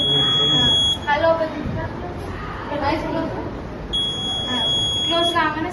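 A buzzer on a student-built anti-sleep driver alert glasses project sounds a steady, high electronic tone in two bursts, starting and stopping, while people talk nearby in a school lab.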